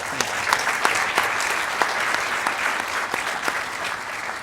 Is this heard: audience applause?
yes